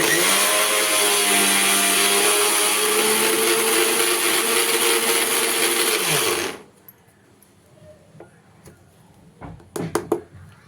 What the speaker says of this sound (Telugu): రొయ్యలు ఇదంతా కలుపుకొని మళ్ళీ ఒకసారి మిక్స్